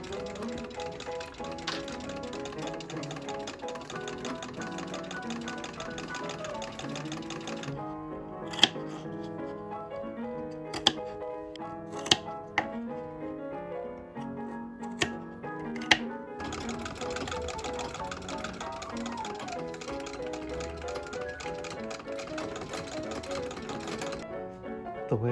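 A sewing machine runs steadily while edge stitching the neck edges of a cape and bodice on a spring dress, a continuous close mechanical whir with a few sharp clicks and taps partway through.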